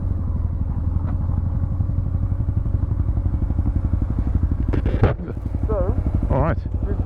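A BMW R1150GS Adventure motorcycle climbs a rocky trail, its engine chugging loudly and steadily up close. Near the end comes a brief thump and some clatter.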